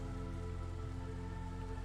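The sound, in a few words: rain storm in video game Against the Storm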